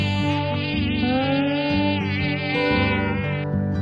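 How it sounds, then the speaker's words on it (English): Insect buzzing with a steady, high, mosquito-like whine carrying throughout, loud and close, layered over tonal sound with no talking. "Mosquito."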